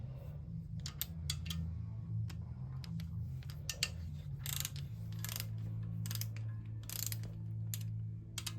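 A ratchet loosens bolts on an aluminium LS1 engine, sounding as repeated close clicking ratchet strokes in short bursts over a low steady background hum, with no talking.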